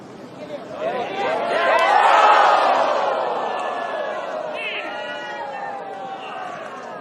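A golf gallery at an LPGA tournament reacts to a final-round birdie putt, a broad crowd roar swelling over a couple of seconds, then fading slowly into sustained murmuring and scattered shouts.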